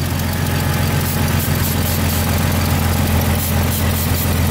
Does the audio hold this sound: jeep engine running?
yes